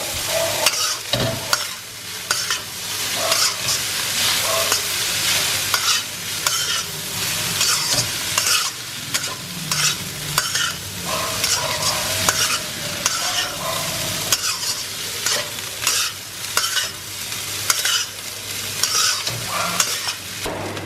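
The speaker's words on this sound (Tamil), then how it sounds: "ரைஸ் போட்டுட்டு இதை நல்லா டாஸ் பண்ணிடுவேன்" Rice and Thai sausage are tossed and stir-fried in a hot pan, a loud steady sizzle cut by frequent scraping and clattering strokes of the spatula.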